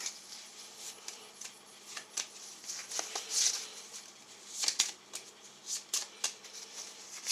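Close-up shuffling of playing cards: bursts of crisp riffling and flicking, irregular and fairly quiet, with no speech.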